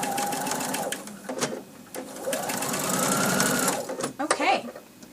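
A sewing machine stitches a Winding Ways quilt block unit in close, whirring runs that start and stop, with someone talking over and between the bursts of stitching.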